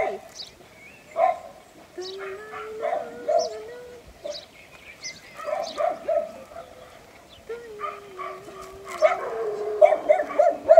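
Several dogs bark and yip at a distance, with whimpering tones and intermittent bursts that grow busier toward the end, over faint background noise.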